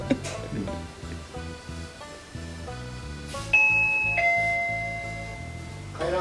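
A doorbell gives a bright ding-dong chime, loud and close, with ringing tones that fade out. It follows softer electronic tones and a brief noise.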